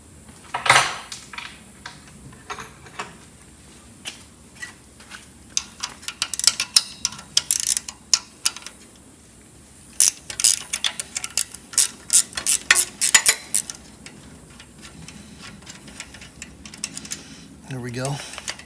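A tin on a seized VW Beetle engine is worked loose with hand tools, giving bursts of rapid metallic ratcheting and clinking clicks, close by, in clusters with pauses between them, and brief talk at points.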